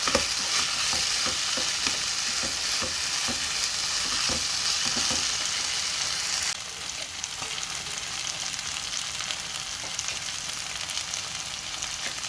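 Mutton biryani masala with onions and poppy seed paste being stirred as it fries in a pot, a loud continuous sizzle with rhythmic scraping strokes of the spoon in the first half, then a steadier, slightly softer fry.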